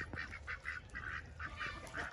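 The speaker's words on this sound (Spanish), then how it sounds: "Miren, la mamá pato se está bañando." Ducks with their ducklings bathing in water, giving a rapid run of repeated honking quacks in short, close bursts with almost no pauses.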